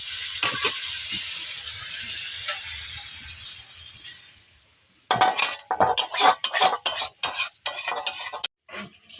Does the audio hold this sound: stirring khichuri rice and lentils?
yes